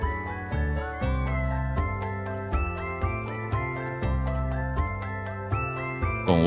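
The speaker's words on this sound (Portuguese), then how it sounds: "esse é um gato jovem, porém completo" A young domestic cat of about eight weeks meows, the calls set against steady music with strong rhythmic notes that dominates the sound.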